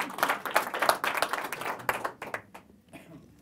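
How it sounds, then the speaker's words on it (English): Audience at a small underground magic show claps in a loose burst of applause that thins out and fades over a few seconds. "Show it around again, another big round of applause."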